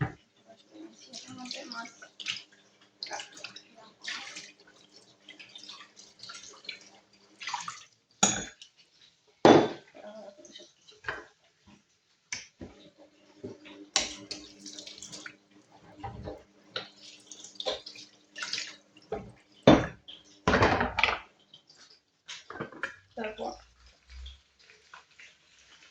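Fish for biryani is washed under running water, irregular bursts of splashing and pouring that start and stop, with a voice talking at times in between.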